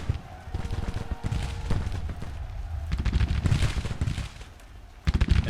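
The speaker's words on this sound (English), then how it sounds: "we'll just have everybody else shoot at the supporting units" Grand Tactician: The Civil War battle sounds bring dense, continuous volleys of musket gunfire with sharp cracks, a steady rolling rumble of shots at mid distance, then heavier bursts near the end.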